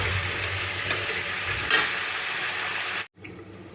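Chicken with yogurt, onion and whole garam masala sizzles steadily in a covered pan, with a continuous close frying hiss, a few faint ticks and a brief break near the end.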